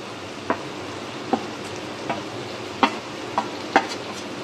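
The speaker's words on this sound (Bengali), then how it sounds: "মশলাগুলো ভাজা হয়ে গেছে" Ground spices with coriander powder fry in oil in a pan for palak paneer under a soft steady sizzle. A spoon scrapes and stirs the pan in sharp knocks at irregular intervals.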